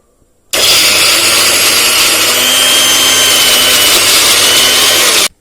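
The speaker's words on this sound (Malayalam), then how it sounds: "അപ്പോൾ നമുക്കിതെല്ലാം കൂടി ഒന്ന് ചതച്ചെടുക്കാം." A kitchen mixer grinder crushes ginger, garlic, green chillies and curry leaves for parippuvada, a loud, steady whirring roar that starts abruptly, runs for about five seconds, then cuts off.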